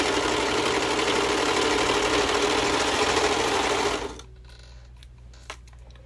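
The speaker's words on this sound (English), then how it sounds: "So to finish your seams with the serger, you're just going to line the edge of your fabric up here." A serger overlock machine with a trimming knife and two needles finishes a fabric seam edge, running loud and steady at close range for about four seconds, then stopping abruptly, leaving quiet handling noises.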